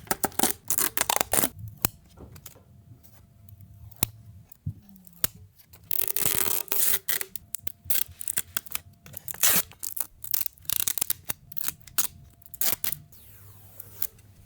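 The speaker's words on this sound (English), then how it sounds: "Would you like some RX 9070 XT Peel ASMR?" Protective plastic film is peeled off a new AMD RX 9070 XT graphics card in a quiet room, coming as close crinkling and tearing bursts and crackles with short pauses between pulls.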